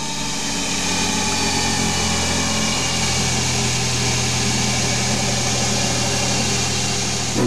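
CNC lathe at 2400 RPM turning a brass engine adaptor for a Mini Minor with a carbide insert, a steady high whine and hum of the spindle and cutting throughout, no talking.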